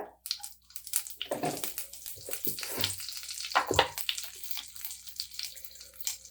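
Fenugreek, cumin and curry leaves spluttering in hot oil for a Tamil kovakkai vatha kuzhambu, heard as irregular bursts of crackling and sputtering pops between quieter moments, close and moderately loud.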